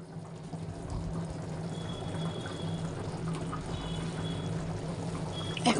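Water poured steadily into a cooking pot of chicken kabsa to top up broth lost while boiling, a continuous close pouring and trickling wash lasting several seconds with no talk.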